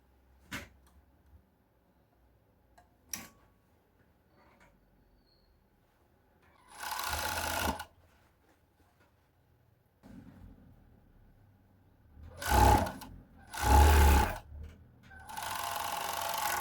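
A sewing machine stitches a seam on a women's shirt in short separate bursts of whirring, set apart by quiet gaps with faint clicks and handling noises nearby.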